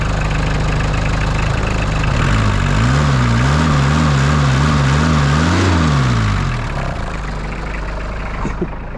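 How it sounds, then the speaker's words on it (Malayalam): A vehicle engine idles loudly and close after a cold start, with a rough rumbling throb whose pitch wavers up and down for a few seconds before settling. "ഫൈനലി വണ്ടി നമ്മൾ സ്റ്റാർട്ട് ചെയ്തിട്ടുണ്ട് കേട്ടോ"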